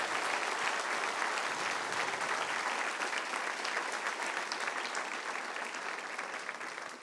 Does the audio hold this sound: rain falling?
no